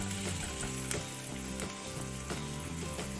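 Four dried red chillies and curry leaves sizzle gently in hot oil, giving a steady close frying hiss that runs under background music, with no talking.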